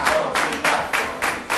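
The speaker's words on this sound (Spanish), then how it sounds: "Y ahora un aplauso para Motita." A live audience breaks into a short burst of applause for Motita during a comedy show, with clapping that swells and dips in quick waves, loud and close.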